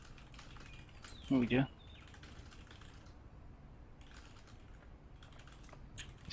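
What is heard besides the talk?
typing on a computer keyboard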